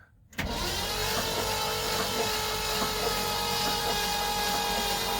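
A 1978 Ford truck engine cranking on a weak battery with an empty carburetor, a continuous loud starter drone with slow laboring pulses that begins abruptly and runs to the end.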